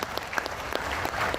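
Audience applause at a motivational talk for civil servants, a short burst of scattered clapping at moderate volume, with no voices over it.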